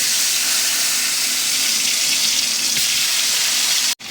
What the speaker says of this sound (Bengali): এগুলো আমি হালকা ভাজি করে নিব।